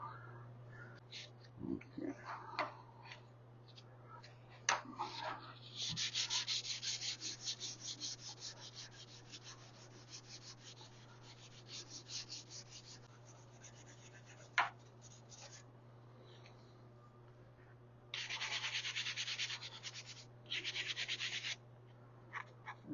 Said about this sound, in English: So that might be dry enough to sand the car.